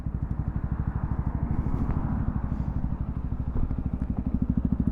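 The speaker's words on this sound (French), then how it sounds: "Alors voilà la Scrambler 125 de chez Zontes." Zontes Scrambler 125 motorcycle idling in neutral nearby, a steady, even single-cylinder putter with a fast regular pulse that holds throughout, with no speech over it.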